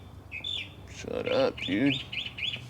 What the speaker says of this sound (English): As we hear some noisy bird.